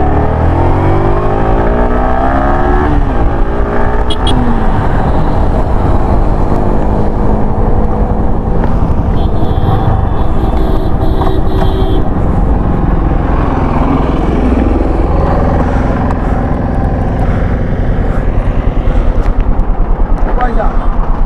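A Yamaha R15 V3 motorcycle ridden on a Guwahati to Bomdila tour, its engine droning loud and close with rising and falling revs through gear changes, wrapped in heavy wind rush.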